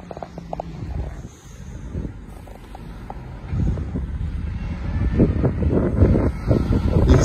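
Strong wind buffets a microphone outdoors in Jaywick, on the English coast, in gusty, rumbling bursts that build louder toward the end, with no talk.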